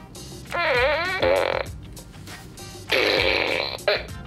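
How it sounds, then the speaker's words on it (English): A toy fart blaster, a novelty gift from Walmart, lets out two loud, wobbling, buzzy fart noises, each about a second long, with a short quiet gap between them and no talking. "After 20 seconds, it will light up and make a fart sound."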